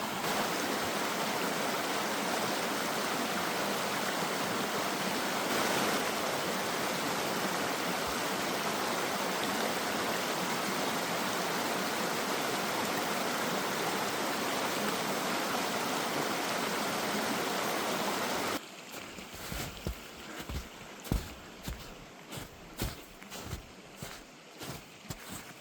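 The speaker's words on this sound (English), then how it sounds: "outlet from the lake, flowing fast" A fast-flowing outlet stream below Blue Lake in the North Cascades rushes in a steady, dense wash of water close by for most of the stretch, then turns quieter with scattered rustling and footsteps near the end.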